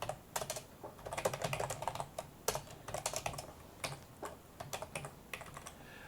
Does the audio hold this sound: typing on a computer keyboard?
yes